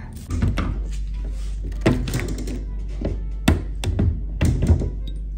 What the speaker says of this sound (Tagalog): Ang hirap buksan ng pinto na to guys.